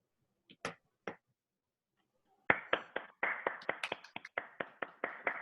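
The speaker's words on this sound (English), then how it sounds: "I'm clapping with two hands." One person claps with two hands, a few scattered claps first, then a quick, fairly regular run of sharp, close hand claps after a short pause, quiet overall.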